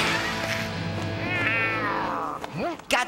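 A cartoon cat trapped in a bag gives drawn-out, wavering meows and yowls, fairly loud and close, ending in a couple of short rising cries.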